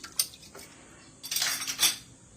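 Dishes and cutlery being washed: a few light clinks of silverware, then a louder stretch of rattling plates and metal with faint running water, close by and without talk.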